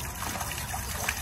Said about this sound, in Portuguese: Daí sai a água.